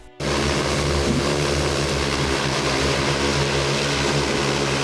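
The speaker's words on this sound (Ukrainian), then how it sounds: "Призначений він для найбільшого дрона гексакоптера, величезної пташки з шістьма пропелерами." A large six-propeller hexacopter attack drone flies close by, its rotors producing a loud, steady, dense buzzing drone with layered engine-like tones that start abruptly and hold constant.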